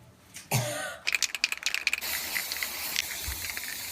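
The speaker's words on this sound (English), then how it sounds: "This is a glitter spray, and I'm just gonna spray it all over this top" A glitter spray can is shaken with a quick rattling burst, then sprays onto a dress top outdoors in short hissing bursts followed by a longer, softer hiss.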